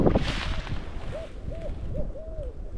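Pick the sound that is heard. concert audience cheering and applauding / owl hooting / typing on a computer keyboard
owl hooting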